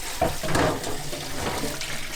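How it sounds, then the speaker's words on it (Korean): Cold tap water runs steadily over the removed brew group of a Gaggia Syncrony Logic coffee machine, a continuous close splashing and trickling with no talk. "그냥 흐르는 찬물에"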